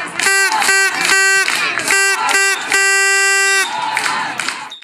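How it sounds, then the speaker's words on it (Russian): Fans in the stands at a sports match between teams of the Kursk administration and the regional sports ministry cheer loudly, with repeated blaring horn blasts cutting through the crowd noise in short bursts and one longer blast. "Мощную атмосферу поддержки на трибунах создавали болельщики."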